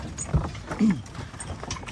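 A horse's hooves clip-clop in a few uneven steps on a farm, close by, briefly mixed with faint background noise.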